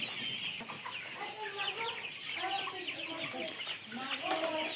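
Tiger chickens clucking on a farm, a busy flock with many overlapping soft clucks and calls, fairly faint and steady throughout, no clear talking.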